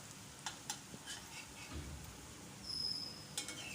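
Idli shallow-frying in a little oil over low heat gives a soft, quiet sizzle, with a few light taps and a brief scrape close by.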